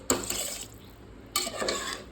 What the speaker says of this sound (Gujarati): ગાઈસ તો હવે ચોખા એડ કરી દીધા છે આપણે અને મિક્સ વેલ.